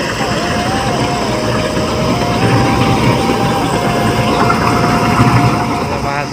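A rice combine harvester engine runs through a paddy harvest, a steady loud rumbling drone with a continuous mechanical whine, heard close and unbroken throughout.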